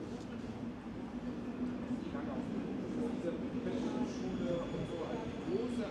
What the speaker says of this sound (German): Da kommt schon unser Zug.